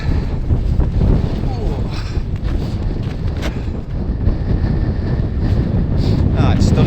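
Strong wild-camping wind gusts buffet the microphone beside Angle Tarn, a mountain tarn in the Lake District in snowy winter, giving a loud, continuous rumbling roar with a person speaking faintly underneath.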